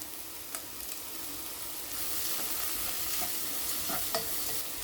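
Salted onions frying in a pan for a curry dosa, a steady close sizzle with soft stirring scrapes, growing slightly louder midway, with no talking.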